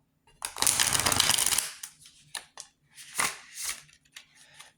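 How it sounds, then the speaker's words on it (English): Tarot cards being shuffled: a dense riffling burst of papery flicks, then a few softer scattered shuffles and taps, close and quiet with no talk. "Well, that wasn't a really good shuffle."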